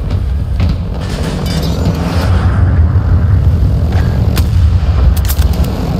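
Loud, sustained battle din in Battlefield 2042, with heavy gunfire and booming explosions near a tank merging into a dense roar that swells in the middle.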